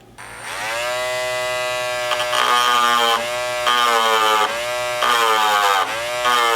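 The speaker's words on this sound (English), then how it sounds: "So we're going to take our Dremel and start to grind off this post" A Dremel rotary tool with a cutting head grinds a rivet post down, a loud, close, high-pitched whine that rises and dips in pitch as it bites into the metal in repeated passes.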